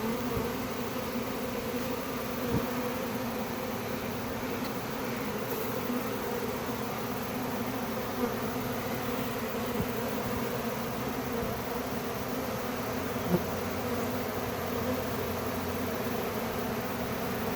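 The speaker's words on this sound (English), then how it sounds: "That's a good sized swarm." A swarm of honey bees hums in a dense, steady buzz that holds unbroken throughout, with a few faint knocks underneath.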